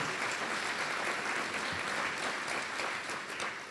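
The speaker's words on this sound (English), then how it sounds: "I think we owe them another round of applause" Steady, dense applause from a crowd at a college student union ribbon-cutting ceremony, sustained at even loudness for the whole stretch and tapering slightly at the end.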